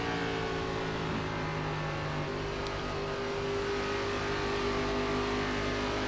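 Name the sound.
race car engine accelerating out of a corner, iRacing video game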